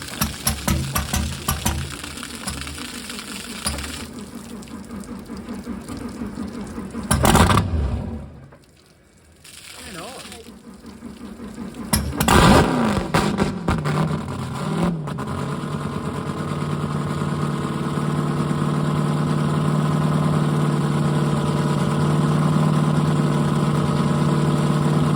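The engines of a damaged offshore powerboat, the port side having taken water, run with a steady mechanical idle, broken by a brief surge, a sudden dropout, and then a return to a rising, sustained drone that continues alone to the end.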